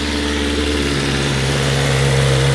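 A BMW S1000 RR sport motorcycle with an Akrapovic can exhaust runs close by, a loud steady engine note that rises slightly toward the end, with no speech.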